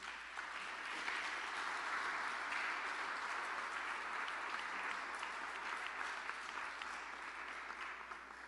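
A church congregation applauds during a Spanish-language sermon, with dense, even clapping heard at a distance, steady for the whole stretch without voices over it.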